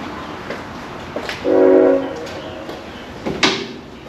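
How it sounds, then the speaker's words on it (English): A nearby train sounds a short horn blast amid rattling rail noise and a few clunks, like a railcar door or couplings, at a railroad museum in Bellevue. "We hear trains around us."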